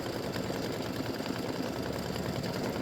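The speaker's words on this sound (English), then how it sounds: "color stop number 5 is going to stitch the sleigh" Embroidery machine stitching a Christmas sleigh design in red thread, a steady fast mechanical whirr running continuously at moderate volume, close by with no talking.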